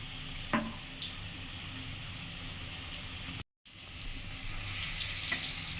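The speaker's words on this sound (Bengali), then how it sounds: "সামান্য হলুদ গুঁড়ো ও নুন দিয়ে ভালো করে ভেজে নেব" Steady sizzling of food frying in hot oil with turmeric and salt, with a short break partway through and the crackle growing brighter toward the end.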